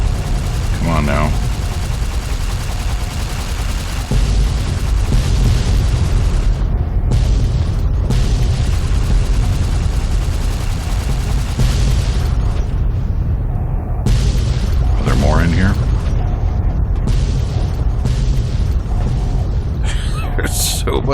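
Repeated booming explosions tear through a Fallout game scene in Tale of Two Wastelands, loud and close, one after another over a rumbling base, with a voice speaking intermittently between blasts.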